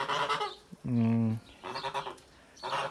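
A single loud, nasal honk from a Kholmogory goose rings out close by, briefly interrupting ongoing talking.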